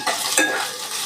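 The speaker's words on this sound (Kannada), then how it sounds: "ಈರುಳ್ಳಿ ಸ್ವಲ್ಪ ಎಣ್ಣೆನಲ್ಲೇ ಫ್ರೈ ಆಗಬೇಕು" Chopped onions frying in a little oil for a mixed vegetable palya, a brief loud crackling sizzle with the scrape of stirring, close up and without talk.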